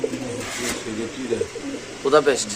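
Racing pigeons for sale coo softly in repeated low, throaty phrases, with a brief fluttering burst near the end over steady background noise.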